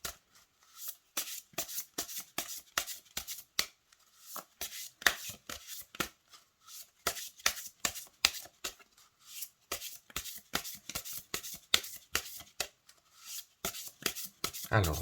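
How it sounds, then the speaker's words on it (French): A deck of oracle cards being shuffled by hand, with quick papery riffles and slaps repeating in close, steady bursts and short pauses, with no talking over it. "je vais battre les cartes"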